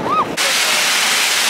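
Broadband roar of a waterfall in southern Iceland, heard from underneath the falling water, loud and steady after a brief opening of faint talk-like sounds.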